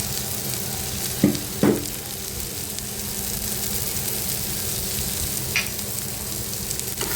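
Dry prawns and finely chopped raw mango sautéing in a pan, a steady soft sizzle throughout with a couple of brief stirring scrapes near the start and one short clink later.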